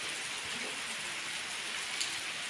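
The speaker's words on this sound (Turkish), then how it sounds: "Bakın yine yağmur coştu coştu geldi." Steady rain falls close by in a village garden, a dense, unbroken hiss of drops pattering on surfaces with no voices.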